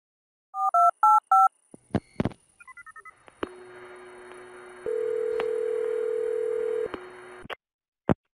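Touch-tone dialing of a phone number: short rhythmic DTMF beeps in quick groups, some clicks, then a sustained line tone with a louder steady segment, ending in a sharp click; no speech.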